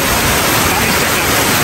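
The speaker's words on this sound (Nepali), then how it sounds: "बाढी खतरा बाढी आएको छ आज, खतरा खतरा एकदमै ठुलो बाढी।" A huge, coffee-coloured flood surges down the Parista stream. It produces a loud, unbroken roar of rushing water that fills the whole moment.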